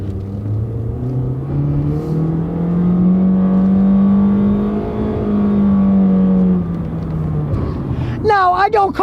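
A Honda car with a CVT transmission accelerates from a stop, its close, steady droning engine note rising and then holding at a level pitch. A voice briefly breaks in near the end.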